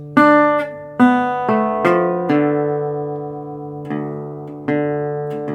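Plucked acoustic guitar melody, clear bright notes ringing out over a sustained bass, with a few attacks and slides, played alone.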